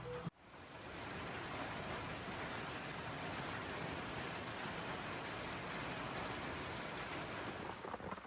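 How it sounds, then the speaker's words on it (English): Steady, dense rainfall hissing continuously throughout during a storm at a cabin, a broad even wash of drops with no voices. "it's still raining"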